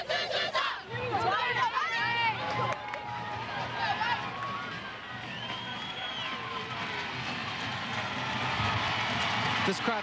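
Stadium crowd at a 1999 Women's World Cup match between the USA and North Korea, a loud, sustained roar of cheering and shouting that fills the whole stretch, with a commentator's voice talking over it.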